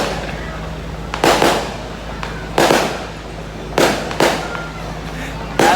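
Four fireworks bursts crackle and boom in turn, each sharp onset trailing into a crackling fizz, spaced about a second apart and rising above a low steady background.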